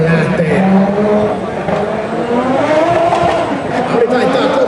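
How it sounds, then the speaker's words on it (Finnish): Juha Kankkunen's 1985 Audi Group B rally car drives hard and corners, its engine note rising and falling with tire noise at the 2014 Neste Oil Helsinki Battle, loud and steady under a commentator's talk. "Audi taittaa komeasti."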